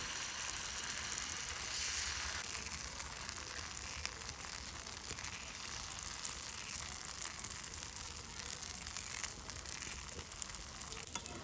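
Flour batter mixed with winter vegetables fries in an oil-brushed frying pan, giving a faint, even sizzle that runs steadily throughout with no speech.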